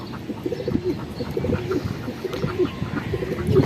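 Pigeons cooing in a steady run of low, rounded calls, close by and fairly loud, with a soft murmur of other birds and background noise underneath.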